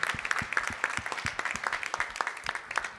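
At a gala for real-estate and workplace directors, the audience applauds the team with steady, fairly quiet clapping from a moderate crowd, individual claps distinct throughout.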